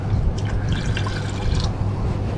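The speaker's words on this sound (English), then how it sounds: "Okay, so I'm going to put a little bit of water in there." Water is poured in a small trickle into a filtering container for silver recovery from contacts, a brief light dribble over a constant low hum.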